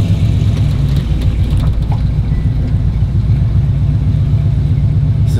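A truck's engine rumbles steadily and close up in a continuous low drone, with faint knocks and rattles from a rough ride and no talk.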